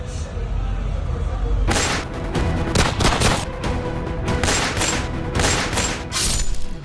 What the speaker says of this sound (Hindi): हमलावरों ने करीब 16 राउंड फायरिंग की